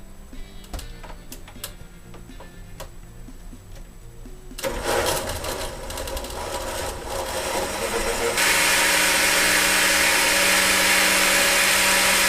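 A blender whirs through a chocolate milkshake of milk and vanilla extract, starting after about four seconds with a steady motor roar that grows louder and more intense after eight seconds, following quieter ticking handling noises.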